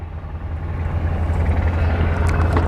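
A helicopter passes overhead with a steady low rotor rumble that swells slightly louder, heard outdoors with no talk.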